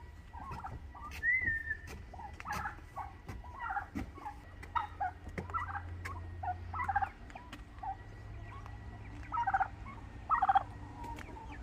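Scattered clucks, whistly chirps and gobbling calls from a flock of fowl, fairly faint, over a quiet low hum.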